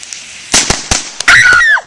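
Firecrackers go off outdoors at a friends' fireworks gathering, four sharp close bangs in quick succession, followed by a short high whistling tone.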